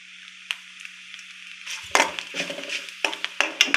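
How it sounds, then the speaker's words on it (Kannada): Cumin seeds and cashews fry in hot oil and ghee for kara pongal, giving a steady close sizzle broken by sharp crackles and clinks of a spoon stirring the pan, louder bursts arriving as the seeds go in. "ಗೋಡಂಬಿ ಫ್ರೈ ಆಗಿದ ತಕ್ಷಣ ಜೀರಿಗೆ ಸೇರಿಸ್ಕೊತ ಇದ್ದೀನಿ"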